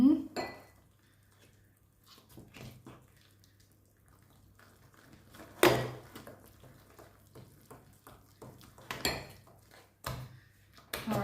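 Mashed potatoes with milk being stirred in a pot, heard as a few sharp spoon-against-metal clanks and scrapes amid quieter gaps, with soft wet mixing between the knocks.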